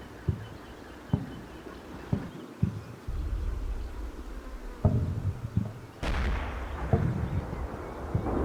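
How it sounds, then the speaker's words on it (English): Battlefield gunfire and explosions from the military strategy game Combat Mission Shock Force, with repeated sharp low thumps spaced about a second apart, then sustained rumbling and a louder burst, all moderately distant and without talk. "what happened here is I heard an explosion on the right flank"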